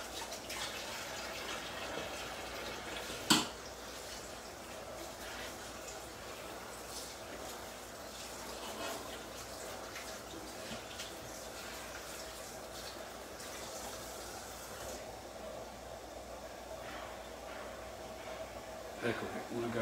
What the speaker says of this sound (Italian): la laviamo sotto l'acqua corrente.